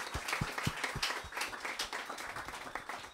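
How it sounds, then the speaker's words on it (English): An audience claps in applause after a presentation, with dense, steady clapping from a moderate-sized crowd heard a little distant and fairly quiet throughout. "Round of applause."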